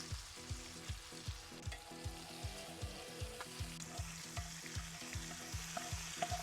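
A cranberry, orange, butter and brown sugar glaze sizzles in a cast iron pan while a utensil scrapes the bottom in quick, regular strokes, a steady close frying hiss under rhythmic scraping with no voices.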